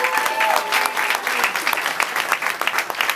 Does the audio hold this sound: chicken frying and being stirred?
no